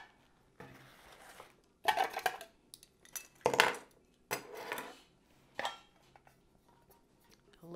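A metal grease pot and its lid handled indoors, giving several separate clinks, scrapes and clanks spread across the moment, with quiet pauses in between and no talking.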